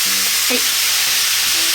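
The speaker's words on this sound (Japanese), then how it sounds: "お酒を 大さじ2杯ほど入れます" Sake splashes into a hot pan of browning pork-wrapped tomato and cheese rolls, setting off a loud, steady sizzle that fills the whole moment, with a brief word spoken over it.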